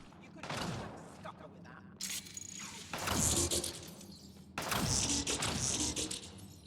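Mass Effect: Andromeda combat gunfire, bursts of rapid automatic shots and thudding impacts in loud clusters, with voices talking over the firing.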